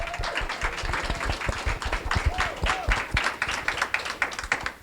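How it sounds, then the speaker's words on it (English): An audience applauding panelists at a Black History Month health disparities event, with dense, steady clapping from a moderately sized crowd that tapers off toward the end. "Let's give them a round of applause."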